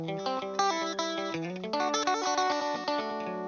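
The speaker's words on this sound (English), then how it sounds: "But I was just playing arpeggios there, okay?" Clean electric guitar picks out arpeggios as single plucked notes, undistorted and without delay, in a steady flowing rhythm, close and alone with no talking.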